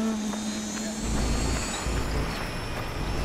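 Helicopter in the military video game Project Reality, a steady rotor and engine drone with a low hum that holds throughout, mixed with broadband game noise and a voice speaking over it.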